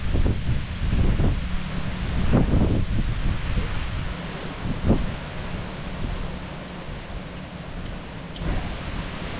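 Steady, heavy wind roars and buffets the microphone throughout, with gusty surges and rustling, and no one talking, during a mango harvest.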